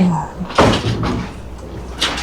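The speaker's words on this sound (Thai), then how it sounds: "เปิดประตูไป" A resort room door on a floating raft resort at Chiew Larn Dam is opened, giving a single close clunk and rattle as people speak nearby.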